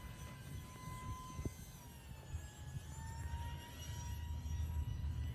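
A small radio-controlled jet with twin 30mm ducted fans flies by outdoors in gusty wind, giving a steady whining drone with faint tonal sweeps as it passes at a distance, heard over wind noise without talk.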